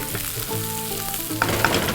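Onion and tomato tempering sizzles loudly in a hot pan, a continuous crackling fry with occasional stirring scrapes and no talking.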